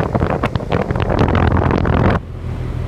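An outdoor air conditioner unit with a three-blade fan runs at a model home, a steady broadband whir mixed with wind buffeting on the microphone, then dropping abruptly to a quieter hum near the end; no talking.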